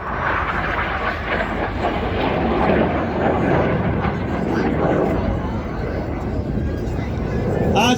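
Red Arrows jets flying past at an airshow, a broad, steady roar of jet engines that holds loud throughout, with a commentator talking over it.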